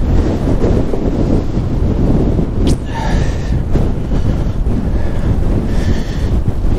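Strong wind buffets a cyclist riding along a road, a constant heavy rush of wind noise with faint higher tones passing briefly.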